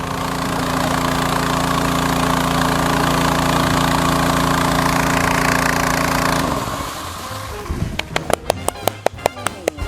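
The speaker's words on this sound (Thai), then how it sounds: "เดี๋ยวให้ช่างนิวใช้รีโมทดับให้ดูหน่อยครับ" A water pump engine runs with a loud, steady drone, then is switched off by remote and cuts out abruptly, leaving quiet broken by a series of sharp clicks and ticks.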